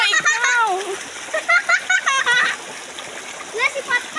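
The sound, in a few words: children jumping and splashing into a river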